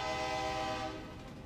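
Loud, sustained horn blast from the McKinley Explorer passenger train crossing Alaska, a rich multi-tone chord held close for about a second before easing off into rumbling rail noise.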